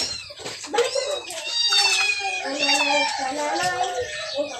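A kitten meows close by in a string of high, wavering cries, several overlapping calls rising and falling over a few seconds.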